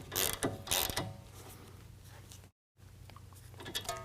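A ratchet tightens a bolt during installation of a Superlift 2.5-inch lift kit on a 2022 Ford Maverick, with a few quick bursts of clicking, a brief gap, then softer clicks close by.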